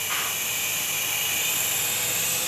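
A small toy helicopter driven by brain signals flies nearby with a steady, high-pitched whirring buzz of its little rotor, continuous and fairly loud throughout, with no speech.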